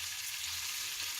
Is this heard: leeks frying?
yes